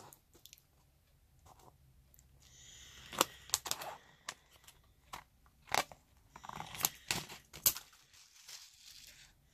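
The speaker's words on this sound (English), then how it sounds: "I'm just going to cut right through the sequin because it's glued right down on both sides" Scissors snipping through a sequin glued down on both sides of a handmade shaker card, a quiet sequence of sharp crunchy clicks and cuts with small pauses, close and faint.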